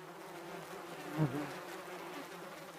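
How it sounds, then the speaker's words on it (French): A honey bee colony (Apis mellifera) in equatorial forest in Gabon gives a steady, faint buzzing hum that swells briefly midway and carries on without voices. "C'est vraiment un super organisme, une colonie d'abeilles"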